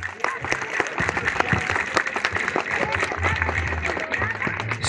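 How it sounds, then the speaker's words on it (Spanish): A crowd at a 2012 agency tournament in San Isidro Laguas, Oaxaca, applauds to vote a team into the final. The clapping is loud, dense and steady, and a voice speaks over it. "Si usted considera que la agencia de San Jerónimo pasa a la gran final, ¿cuál es el aplauso?"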